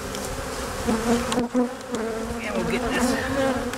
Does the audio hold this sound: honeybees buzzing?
yes